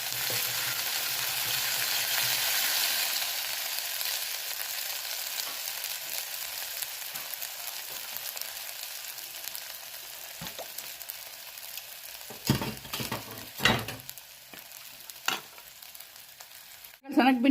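Ginger garlic paste fries with cumin in a hot pan, a steady close sizzle that fades slightly over time, broken near the end by a few sharp spoon scrapes and knocks.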